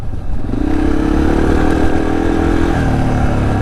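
Yamaha TTR230 dirt bike engine under way on a first ride, a loud, close, steady mid-pitched drone with a rising tone as the revs climb, then holding at a constant pitch.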